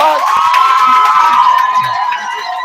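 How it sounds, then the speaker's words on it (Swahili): A crowd of people at a church gathering cheers and shouts with excited high voices, a dense sustained roar that tapers off slightly toward the end. "Tupigie makofi ya kwanza."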